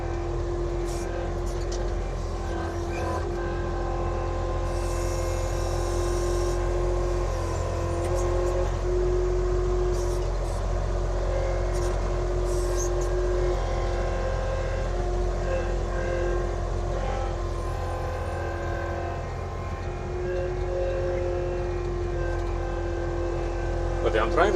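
An Avant compact loader spreading gravel on a construction site, its engine humming steadily throughout, with occasional clanks of the bucket and scraping gravel.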